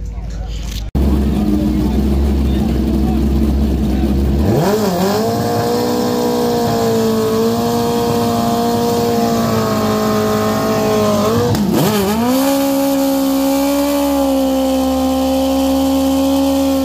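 Kawasaki ZX14 drag racing motorcycles with nitrous at Shadyside Dragway, engines droning loudly then revving up hard in a launch and again later, with an announcer talking over the roar.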